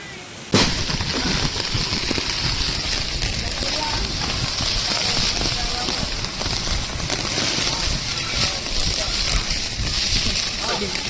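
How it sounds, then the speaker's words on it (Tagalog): Steady roaring typhoon wind with heavy rain pounding and hissing, loud and continuous throughout with no pauses, during Typhoon Uwan. "Palakas po na ulit ng palakas ang hangin at ulan."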